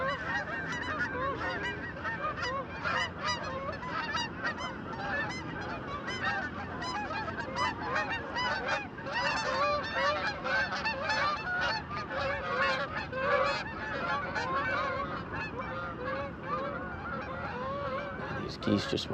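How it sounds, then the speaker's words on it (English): A flock of geese circling overhead near a fishing bank in autumn keeps up a steady, overlapping chorus of honks, moderately distant and continuous throughout. "These geese just won't shut up."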